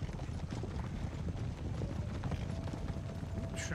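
Cavalry horse guards galloping in a charge in Empire Total War, a dense rumble of hooves mixed with battle noise, moderately faint and continuous.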